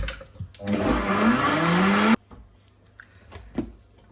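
A blender whirs loudly for about two seconds, blitzing a chocolate tigernut mixture with a little coffee, its motor pitch rising as it runs, then cuts off abruptly into quiet with faint handling sounds.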